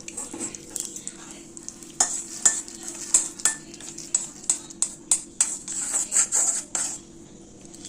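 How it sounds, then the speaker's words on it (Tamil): Roasted gram dry-roasting in a hot pan, with a faint crackle under repeated scraping and stirring strokes of a utensil against the metal, steady and close. "கொஞ்சம் லைட்டாக அதை இந்த ஹீட்லேயே வறுத்துக்கலாம்"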